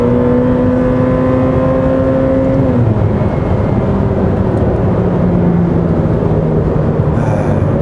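A Ferrari F8 Tributo in race mode runs loud and close, its engine tone climbing under acceleration, then dropping and settling into a lower drone with heavy road and wind roar throughout.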